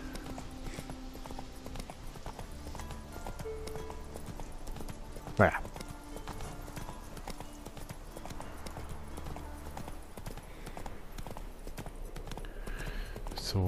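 Horse hooves clip-clop at a steady rhythm as a rider travels on horseback in The Witcher 3: Wild Hunt, continuing the whole time under occasional speech.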